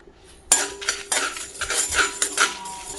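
Dry spices and a single dried red chilli are roasted in a pan for mutton pickle, with metal spoon scrapes and clinks against the pan in quick, irregular strokes close by.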